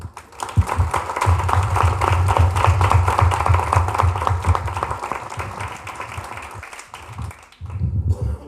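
An audience at an academic lecture applauds steadily for several seconds, the clapping fading out and then briefly picking up again at the end.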